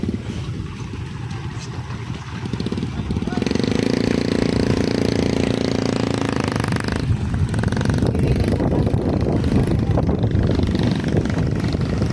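Motorboats with corrugated-iron hulls run at Goyudan, giving a loud, steady engine drone that swells a few seconds in and holds, with some voices early on.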